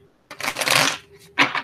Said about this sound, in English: All right, I'm going to shuffle